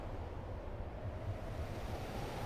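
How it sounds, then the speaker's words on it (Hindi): Steady rush of ocean waves and surf with wind noise, a continuous broad wash of water holding at an even level throughout with no voices. "सागर की लहरों का स्वर"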